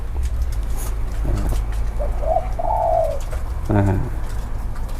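A nok khao dove at a Thai dove camp gives a few soft coos over a steady outdoor hum, mid-distance and fairly faint, with a brief murmur of voices.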